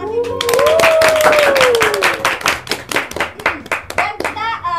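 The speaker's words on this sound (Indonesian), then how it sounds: "Boleh tepuk tangan dulu." An audience at an online Ramadan afternoon event with a vocational high school claps hands, starting as a dense burst and thinning into scattered, uneven claps, while a voice with a rising-falling tone sounds over the start.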